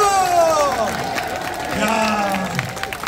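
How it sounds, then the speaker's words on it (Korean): A crowd at an outdoor residents' assembly in a city hall square applauds a children's choir, giving a loud, continuous wash of clapping and crowd noise while a voice talks over it. "아낌없이 박수!"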